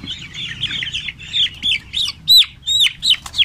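Twelve-day-old broiler chicks cheep in a rapid series of bright, close chirps, growing louder toward the end, with some soft wing flapping and scuffling beneath.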